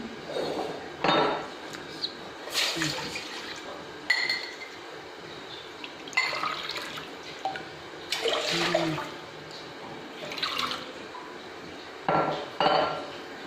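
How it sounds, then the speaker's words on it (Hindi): Three glasses of water splash and pour into a metal pan with clinks and clatter of utensils, in intermittent bursts over a steady background hiss, while making sharbat. "यहाँ पे मैंने एक पैन लिया है, इसमें हम डालेंगे 3 गिलास पानी"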